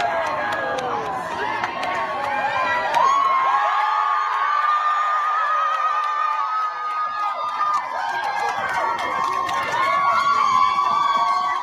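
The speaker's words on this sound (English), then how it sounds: "the crowd was cheering so loud" A crowd at a Black Lives Matter march cheers and shouts loudly outdoors. Many overlapping voices whoop and yell in a continuous, energetic roar that swells and dips over about twelve seconds.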